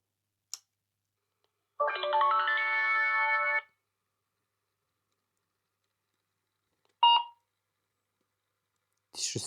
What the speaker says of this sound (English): this should start to beep because it is not configured yet